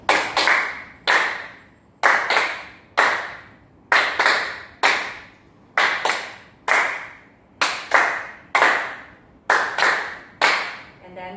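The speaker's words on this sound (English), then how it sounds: "So let's start with the introduction. That is the clapping." Rhythmic hand clapping for the introduction of the Tokyo Gorin Ondo dance: sharp, evenly spaced claps in a repeating pattern of pairs and singles, close and crisp, each ringing briefly in the room.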